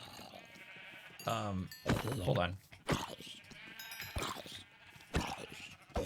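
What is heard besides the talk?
sheep bleating in Minecraft video game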